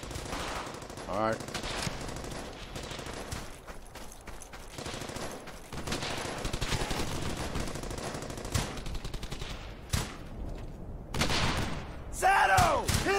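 A squad member's weapon fires in a video game infantry battle, with rapid bursts of gunfire continuing through the clip amid dense combat noise, and a voice speaks briefly near the start.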